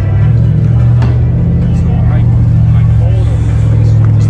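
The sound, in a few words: Ford Mustang GT350 car at a car cruise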